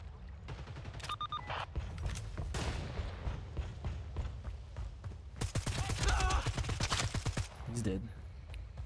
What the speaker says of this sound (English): Why are we shooting?